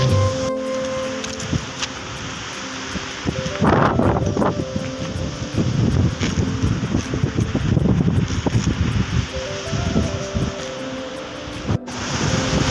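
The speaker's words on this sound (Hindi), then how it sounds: "पूरी हवा तेज चल रही है, आंधी तूफान आ गया है" Strong cyclone wind tears through swaying neem trees during a violent storm, a continuous loud roaring rush with gusting surges and buffeting rumble throughout.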